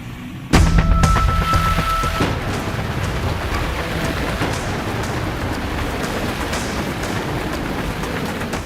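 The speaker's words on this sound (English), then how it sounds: "Heavy rains," Heavy rain from Cyclone Michaung pours down in Chennai, a loud, dense, continuous roar that starts abruptly after a brief low thud and holds steady to the end with no voices.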